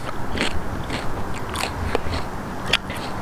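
A fresh, crunchy garden snap pea is bitten and chewed up close, giving a few sharp crisp snaps spread across a quiet background.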